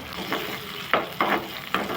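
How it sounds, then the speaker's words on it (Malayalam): Mustard seeds, fenugreek, dried red chillies and curry leaves fry in hot oil for an ash gourd buttermilk curry tempering, a close, steady sizzle with several sharp crackling bursts and stirring scrapes. "ഇനി നമുക്ക് അതിലേക്ക് ഒരു കാൽ ടീസ്പൂണോളം കടുക് ഇട്ട് കൊടുക്കാം ഇതിലേക്ക് നമുക്ക് ഒരു കാൽ ടീസ്പൂൺ ഉലുവ ഒരു രണ്ട് വറ്റൻമുളക് വേപ്പിലായിട്ട് നല്ലോണം ഇളക്കി കൊടുക്കാം"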